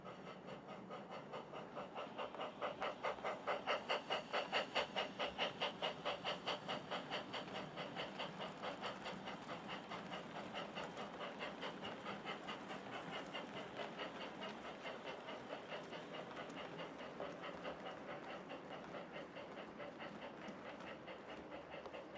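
BR Standard Class 4 mogul steam locomotive 76052 hauls a milk train through 1960s-period scenery, a quiet distant rolling with a steady rhythmic clickety-clack of wagons that swells early and then runs on evenly.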